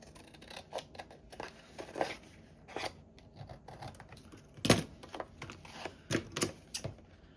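Scissors cut a piece off a sheet of Tim Holtz 8 x 8 inch patterned paper, making close, crisp snips in irregular bursts, with one louder snip near the middle and a few more toward the end.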